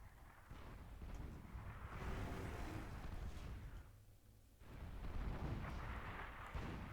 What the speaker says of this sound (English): this fortified artillery could reach out and hit this factory